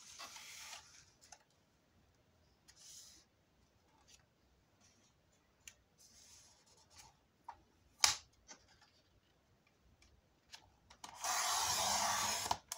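Cardboard from a cereal box is cut and handled close up, giving scattered scraping and rubbing strokes with sharp ticks, and a final long, loud rasping cut near the end.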